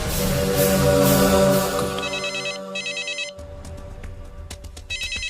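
A phone ringtone chirps in repeated electronic bursts, starting partway in and returning near the end, over a background of music and ambient sound.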